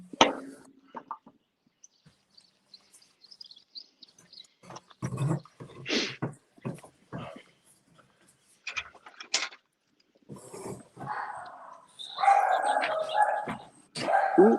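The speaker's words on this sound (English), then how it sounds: "Ooh, I hear doggies." Several dogs bark and yip in short irregular bursts, some near and some farther off, with a few quiet gaps and a livelier cluster of barking toward the end.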